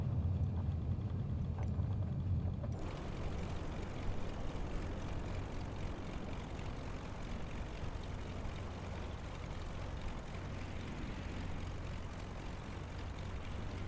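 An airplane taxis in Microsoft Flight Simulator on a Caribbean flight from St. Vincent: a steady, loud engine drone that swells into a brighter, hissing roar after a couple of seconds and holds constant, with no talking.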